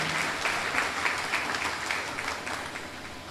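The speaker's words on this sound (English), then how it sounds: "Let's give our awardees a thunderous round of applause" Sustained applause from an audience at an award ceremony in Mayaro, a dense, steady wash of clapping for the awardees that fills the whole stretch without any talk over it.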